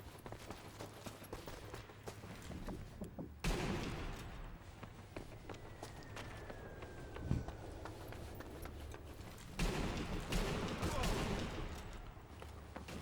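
Gunfire in the sniper video game Sniper Elite V2, with loud crackling bursts of shots and rumbling explosions layered over a steady game soundscape, while a player talks throughout.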